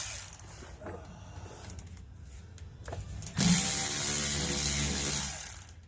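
A small handheld power tool whirs for a couple of seconds as it backs loosened bolts out of a transmission, preceded by faint clinks and tool handling.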